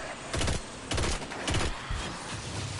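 Heavy gunshots from a slow-firing high-damage weapon in the video game Destiny 2 boom out in a loose, evenly spaced series of about four blasts, loud and close, each with a short rumbling tail.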